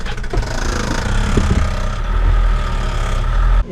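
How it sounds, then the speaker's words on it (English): A boat's bilge pump switches on and runs with a steady, loud mechanical drone, with a few brief knocks early on before the hum settles and then cuts off near the end. "I hear the pump come on."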